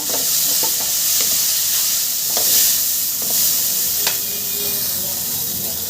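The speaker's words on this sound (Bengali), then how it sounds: "সবজি ভাজা ভাজা হয়ে গেছে" Mixed vegetables being stirred as they fry in oil in a pan give a loud continuous sizzle, broken by a few rhythmic scrapes and clacks of a spatula, heard up close without speech.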